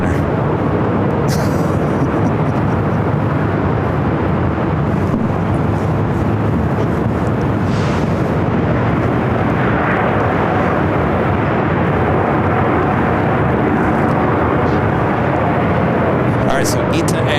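Airliners, including ITA and Air France jets, roar steadily while taking off from runway 24 Left at LAX. The broad engine noise stays loud and constant throughout.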